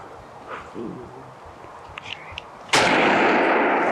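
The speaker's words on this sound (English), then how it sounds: "Go ahead and shoot him right there." A single loud shotgun blast at a turkey during a hunt in tough conditions, sudden and close after quiet woodland sounds with faint bird calls.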